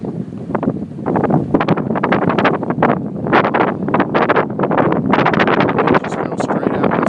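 Heavy wind buffeting the microphone aboard a 35 Sport Coupe boat on a very windy day at Table Rock, loud irregular gusts roaring in waves throughout.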